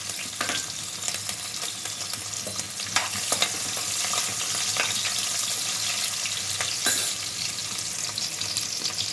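Bay leaf, cinnamon, cloves, sliced onions and green chillies fry in oil for carrot rice, a continuous loud sizzle with frequent stirring scrapes and occasional clinks throughout.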